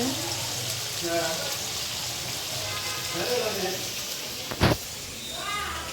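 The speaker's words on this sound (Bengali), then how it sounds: "এই যে এখানে ছোট আলু রসা করা হচ্ছে" Small potatoes fry in a pan with a steady soft sizzle and crackle, a voice talking over it in places and one sharp clattering knock partway through.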